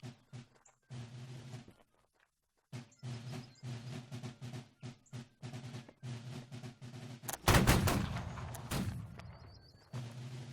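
In Holdfast: Nations At War, a musket practice volley erupts as one loud, crackling burst of many shots, following a stretch of quieter rhythmic in-game sounds.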